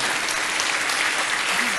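An audience bursts into sustained, dense applause at a spiritual talk in India, loud and steady throughout, with a little voice mixed in beneath the clapping.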